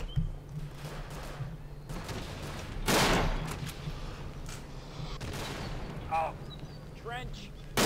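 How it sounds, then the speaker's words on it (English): Mortar shells explode in the Verdun trench warfare video game, a heavy boom near the middle among scattered rumbling blasts and gunfire, with a player talking over the steady battlefield noise. "Oh, there's some real mortars coming down right there."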